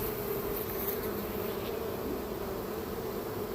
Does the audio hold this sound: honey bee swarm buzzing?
yes